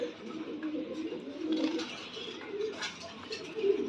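A female king pigeon cooing like a male, giving a low, throaty, continuous coo close by. A faint rustle or higher chirp lies over it, and no one speaks.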